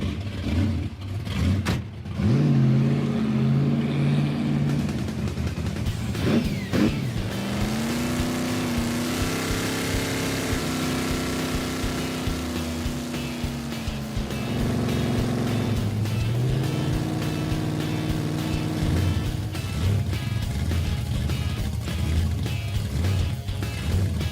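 A Pontiac Firebird drives off and swings through a U-turn, its engine loud and close the whole way as it revs up, settles into a steady cruising drone, then climbs in pitch again.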